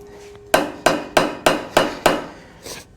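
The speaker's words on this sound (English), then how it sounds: "we're gonna tap it over with the mallet again just to make sure it's tight" Six sharp, evenly spaced mallet blows tap a part tight on a Kubota L2201 tractor, each a loud close knock with a quick decay, followed by a softer final tap.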